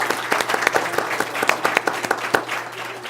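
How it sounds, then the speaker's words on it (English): An audience at a University of Kansas celebration gives a round of applause, with dense, steady clapping from many hands sustained throughout at moderate loudness. "So let's give a round of applause."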